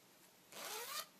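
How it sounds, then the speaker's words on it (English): The zipper of a baby sweater, which runs along the back, gives one quick upward rasp close to the microphone in a quiet room. "the zipper goes along the back"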